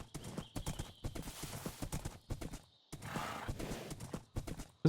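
A horse's hooves clip-clop in a quick, steady rhythm in a cowboy video game, close and fairly loud, with a brief pause before the hoofbeats resume.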